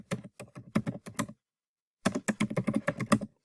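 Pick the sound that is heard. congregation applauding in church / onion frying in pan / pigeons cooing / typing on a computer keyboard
typing on a computer keyboard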